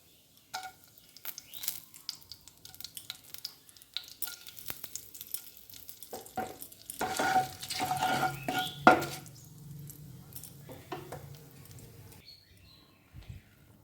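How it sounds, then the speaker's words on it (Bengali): Cumin and whole garam masala hit hot oil for a tempering, with scattered clinks of utensils and spoon taps, then a burst of crackling sizzle in the middle that fades to a quieter fry, no speech. "তেলটা গরম হয়ে গেছে, এবার একে একে এর মধ্যে দিয়ে দেবো ফোড়নের জন্যে"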